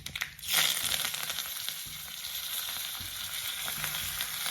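Cumin and mustard seeds with curry leaves hit hot oil for a buttermilk preparation, flaring into a loud burst of sizzling that settles into steady crackling and spitting, with no voices.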